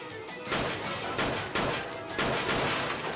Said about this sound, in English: Steve fires off every round of the revolver.